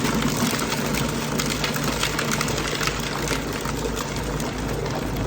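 Food processor blending a beef meatball mixture with ice until smooth, a continuous loud whirring motor with churning grind, steady for the whole stretch.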